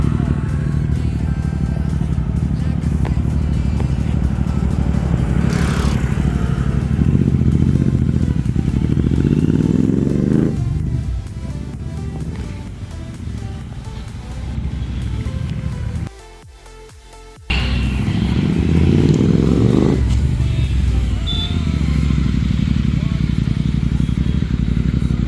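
A Royal Enfield Interceptor 650 motorcycle with a Brembo 320 mm floating front disc is ridden nearby, its engine a steady loud drone that briefly drops away before returning, with voices over it.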